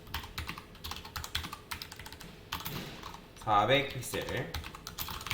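Fast, irregular clicking of typing on a computer keyboard, close and crisp, with someone speaking Korean briefly partway through.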